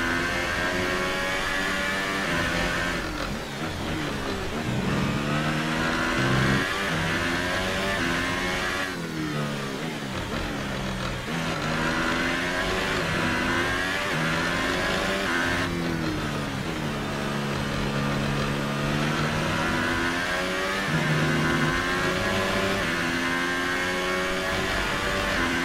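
An F1 car engine in the F1 2018 racing game at the Hungarian Grand Prix, a loud continuous high-pitched whine rising through the revs and dropping with repeated gear shifts, with no talking.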